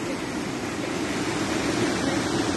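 Flooded Oisky creek rushes in a dense, continuous wash of water noise, loud and unbroken for the whole short stretch.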